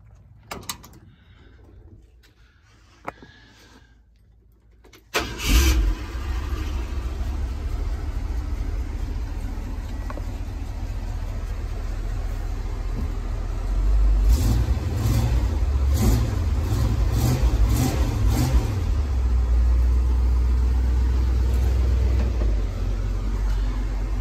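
A 1971 Ford F100 V8 cranks and fires into a loud, steady idle close by, then revs up in several quick blips before settling back, with no talk over it.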